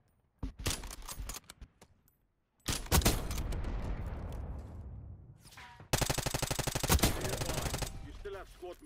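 Video game gunfire erupts in three loud bursts: rapid automatic volleys separated by short silences, with a ringing decay after the second and a fast rattling stream in the last.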